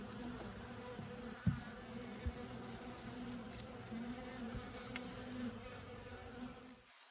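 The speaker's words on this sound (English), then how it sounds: "This was me getting into my bees." A steady, dense buzz of many honey bees at an open hive fills the air, close and continuous, with a few soft knocks and thumps underneath.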